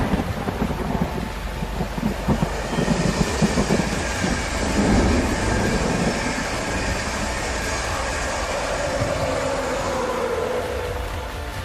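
Train carriages roll steadily along rails with a continuous loud rumble and clatter, some wind buffeting the microphone, and a rising metallic squeal toward the end.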